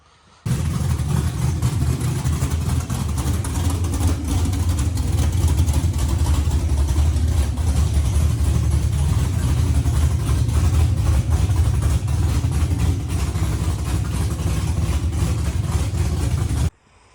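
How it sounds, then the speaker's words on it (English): Aluminum 5.3 LS V8 with an aggressive cam and 243 heads, idling with a choppy, lumpy rumble, close and steady throughout, no talking. "I'll put a clip in of it just chopping at idle"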